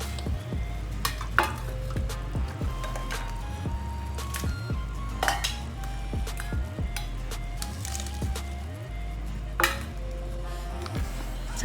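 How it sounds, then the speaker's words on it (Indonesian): Seafood tom yum soup with squid simmers in a pot as the broth comes to a boil, a steady close bubbling and sizzling bed broken by rhythmic low knocks and occasional utensil clinks. "Dimasak dan dimatangkan sampai kuahnya mendidih."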